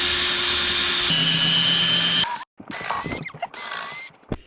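A hand ratchet clicks while bolts are tightened during installation of a boat autopilot, first as a steady mechanical whir and then as several short, close ratcheting bursts with brief pauses.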